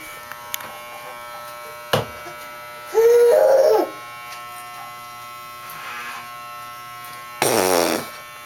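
An electric toothbrush buzzes in short loud bursts, one near three seconds and another near seven and a half, with quieter hum and clicks between them and no speech.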